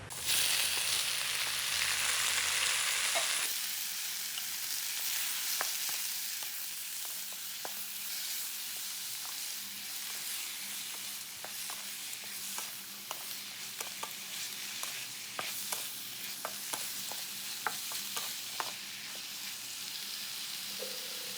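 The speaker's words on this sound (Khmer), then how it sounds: "ឆាចុះឆាឡើងមួយស្ទុះ" Seafood fried rice with carrots and beans is stir-fried in a hot wok, a loud burst of sizzling settling into a steady crackle broken by frequent sharp taps and scrapes of the spatula.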